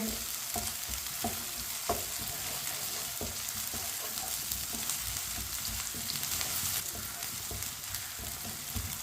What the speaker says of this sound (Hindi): अदरक को भी आधे मिनट के लिए पका लेंगे चम्मच चलाते हुए।